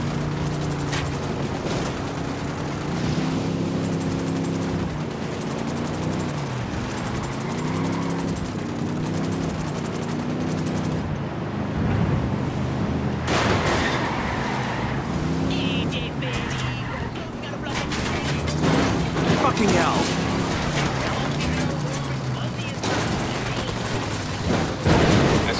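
Sustained gunfire fusillades from a Ghost Recon Wildlands mission in Bolivia with an escort vehicle, bursts rattling continuously alongside engine rumble and players talking over the fight.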